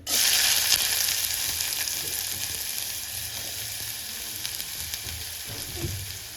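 Onions fry in hot oil for a curry, giving a continuous close hiss of sizzling that is loudest at the start and eases slightly, with faint stirring scrapes underneath.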